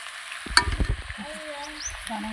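Water is poured into a hot pan of spicy chicken feet curry, giving a sharp splash and hiss that settles into a steady, low sizzle.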